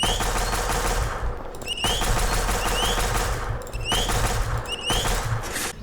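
A death ray weapon fires in the Mad City video game, with dense rapid crackling bursts in repeated volleys, punctuated by rising whine-like charge tones and brief gaps between blasts.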